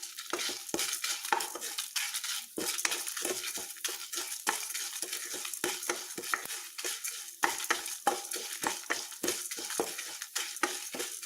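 Red chillies and cumin roast in a dry pan while a spoon scrapes and stirs steadily, giving a close, busy run of rhythmic scraping clatter with a light sizzle underneath and no voices.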